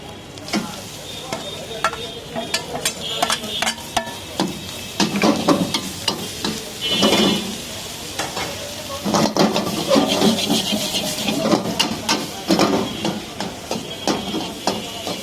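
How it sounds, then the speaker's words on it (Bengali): Onions and mixed vegetables stir-fry in a pan for street-style veg chow mein, with a loud, continuous sizzle broken by frequent spatula scrapes and clanks close by. "পেঁয়াজটা একটু ভাজা ভাজা হয়ে আসলে আমরা এবার ভেজিটেবলগুলো দিয়ে দিতে পারি"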